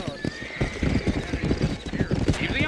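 Horses trot with rapid, steady hoof clip-clops in the Western video game Red Dead Redemption, with an occasional whinny, while someone speaks over the hoofbeats.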